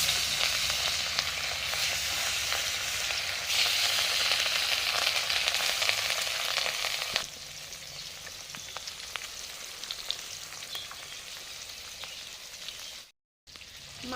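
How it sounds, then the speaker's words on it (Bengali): Katla fish pieces frying in hot oil in a kadai, a loud continuous close sizzle and crackle that eases to a lower steady hiss partway through, with a brief silent gap near the end. "কাতলা মাছগুলো ভেজে নেব।"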